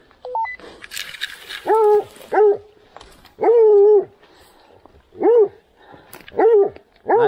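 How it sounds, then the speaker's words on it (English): A dog barks and bays repeatedly while tracking during a grid search for a downed deer, loud, close, drawn-out calls with pauses between them, preceded by a couple of short electronic beeps. "Just follow the barking."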